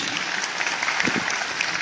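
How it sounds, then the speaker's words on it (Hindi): Dense applause from a crowd at a National Voters Day event, steady clapping filling the whole moment without a break. "आपकी जोरदार तालियों के बीच"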